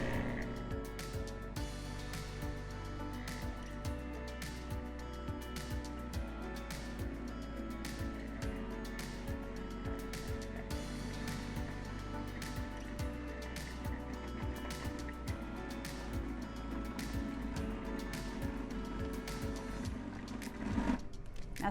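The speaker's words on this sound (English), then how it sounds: "you want to have your food processor on, and you're just going to pour it straight in, and we're going to let it form a ball." A food processor runs for a long stretch, mixing calzone dough into a ball, a steady motor hum with a continuous drone and repeated rhythmic knocks as the dough thumps around the bowl.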